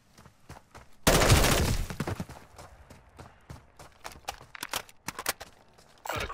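Gunfire in MWIII Zombies opens with a loud sustained burst, then continues as scattered sharp single shots and short volleys at varying distances for several seconds.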